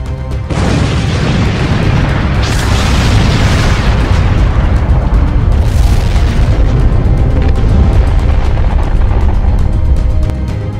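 An asteroid fireball about four kilometres wide explodes over the ancient city of Sodom, a loud, sustained roaring blast that swells into deep rumbling surges and keeps thundering for several seconds with no voices.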